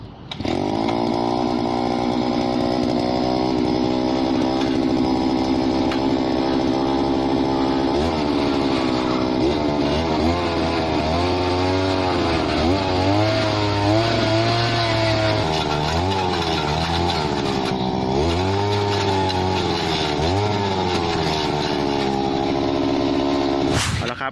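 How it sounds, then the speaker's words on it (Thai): A small petrol earth auger engine roars continuously up close, its pitch bogging down and surging repeatedly as the auger bites into the soil. "ก็สตาร์ทเครื่องยนต์เลยฮะ อันนี้เป็นเครื่องมือที่เราจะใช้เจาะนะครับ เป็นเครื่องเจาะ"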